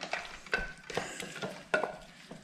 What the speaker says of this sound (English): And then stir it up again.